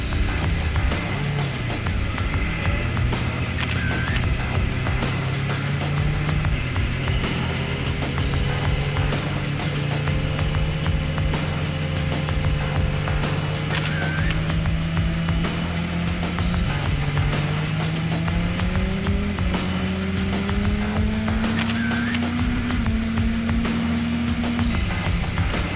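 A cruiser motorcycle converted into a street tracker runs on a race track, its engine droning loud and steady with slow pitch climbs as it accelerates through the gears.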